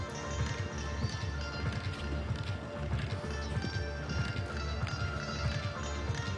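Horse hooves clip-clop in a steady rhythmic gait at an international show jumping competition, fairly close and continuous over faint background ambience.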